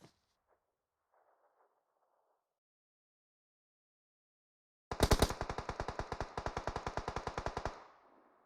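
Rapid automatic gunfire in PUBG Mobile bursts in loudly after a quiet start, a dense stream of evenly spaced shots lasting about three seconds before cutting off, with faint scattered sounds beforehand.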